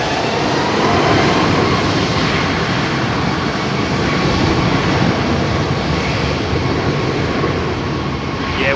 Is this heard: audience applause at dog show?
no